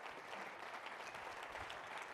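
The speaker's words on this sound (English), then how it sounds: "Give her a little round of applause." A leadership talk audience gives a round of applause, a soft, distant wash of steady clapping lasting the entire stretch.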